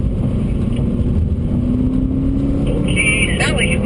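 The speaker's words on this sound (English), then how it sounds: "We're going to let these two cars go by." A BMW M3 and another car rumble past on a wet performance-center race track, a steady close engine roar with rising whine near the end, while a person talks over it.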